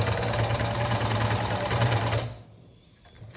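A sewing machine runs in a fast, steady stitching whir through fabric for about two seconds, then stops abruptly, leaving near quiet.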